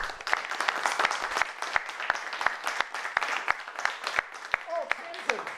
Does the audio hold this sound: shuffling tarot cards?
no